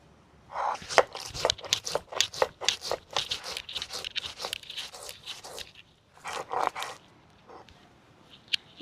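Black and yellow mustard seeds, poppy seeds, cashews and green chillies are ground together by hand on a stone slab, giving a close series of rhythmic crunching, scraping strokes that pause briefly near the end before a few more passes.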